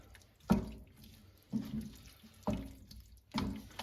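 Fusilli pasta being stirred into sauce for a rustic chicken and sausage pasta: four wet, squelching strokes about a second apart, close and alone.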